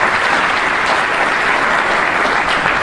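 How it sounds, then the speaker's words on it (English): Loud, dense audience applause at a winter meeting of an association, steady and continuous throughout with no talk over it. "Can we have a round of applause for them?"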